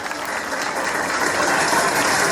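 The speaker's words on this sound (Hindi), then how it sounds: "जोरदार तालियां इसके लिए" A crowd at a public quiz event claps for a young schoolgirl's correct answer, a steady wash of applause at moderate level with no voices over it.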